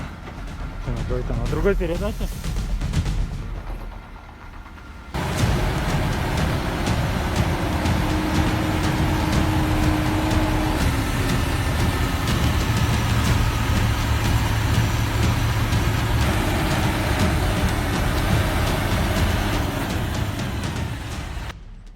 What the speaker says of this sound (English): Its engine roars under heavy load as the entire vehicle shakes violently over the rough terrain.